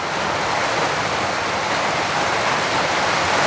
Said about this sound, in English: And the rain is just insane outside. It is so loud.